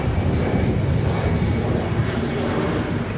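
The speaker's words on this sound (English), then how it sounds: "we have our A319 on departure there" An Airbus A319 departing from Raleigh-Durham International roars with a steady, dense broadband engine rush that stays loud and unbroken throughout.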